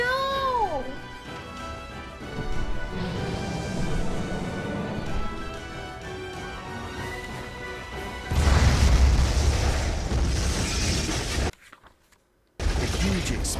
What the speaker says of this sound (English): A huge explosion from the impact drowned out everything else in the attic.